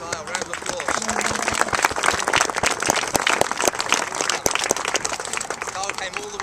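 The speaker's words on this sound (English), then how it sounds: "Round of applause." Applause from an audience at a summer soccer skills challenge awards ceremony, dense continuous clapping held at steady loudness for several seconds, with voices and cheers mixed through it.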